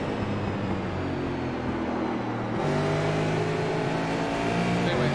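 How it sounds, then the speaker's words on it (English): A race car on a racetrack, its engine droning and rising in pitch as it accelerates down the back straight, loud and continuous with a second engine tone joining midway. "Accelerating down the back straightaway."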